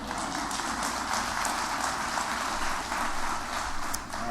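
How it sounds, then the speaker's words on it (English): Steady, dense audience applause for President Obama at a Department of Homeland Security event, filling the whole stretch at an even level without gaps or voices. "Give him a big round of applause"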